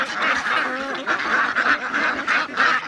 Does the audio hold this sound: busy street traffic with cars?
no